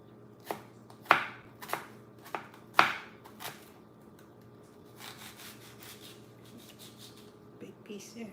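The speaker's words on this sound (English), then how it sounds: "You just want the onion cut up." A knife chops an onion into rough pieces on a board, several sharp chopping hits at an uneven rhythm, close and fairly loud, with softer scraping and handling afterward.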